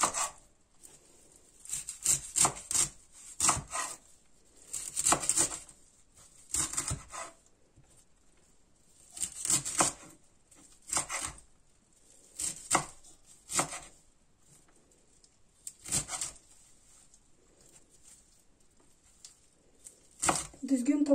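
A knife chops foraged wild ivy greens on a board in a series of separate chopping bursts with pauses between them, close and fairly soft.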